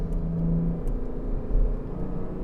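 A 2022 Porsche 718 Cayman GTS 4.0 runs with its active exhaust switched off, giving a low, steady engine rumble with a faint whir and small swells, heard close without talk.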